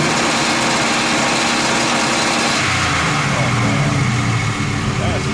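A car engine fitted with an MSD two-step launch control revs hard and holds near the limiter, a loud, close, buzzing drone that shifts pitch partway through, with people talking over it.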